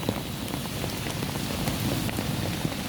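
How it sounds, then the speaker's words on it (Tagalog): Heavy rain on a roof deck, a dense, loud, continuous patter of drops close by, heard alone with no voices. "Ang lakas ng ulan tapos kumukulog-kulog."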